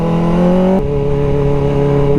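Motorcycle accelerating at high speed, a loud steady engine drone with one quick gear change partway through, with no voices.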